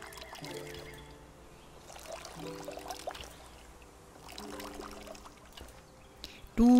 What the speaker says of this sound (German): So, das lange Gießen geht wieder weiter.